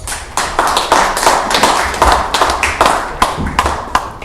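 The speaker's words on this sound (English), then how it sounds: "Give them a round of applause, please." Loud, close clapping at an open microphone business event, individual hand claps clearly separated in an uneven, lively rhythm, as if from a small nearby group rather than a distant crowd.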